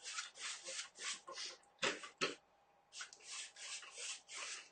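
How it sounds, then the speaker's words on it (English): A paintbrush lays green paint onto a pre-stretched canvas in soft, close scrubbing strokes, repeated in short bursts with brief pauses between. "I'm just going to lay it on a little bit here and there."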